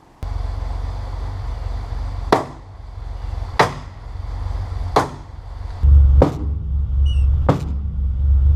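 Five sharp metallic bangs strike at uneven intervals over a steady low engine rumble, each hammer blow ringing briefly against the car.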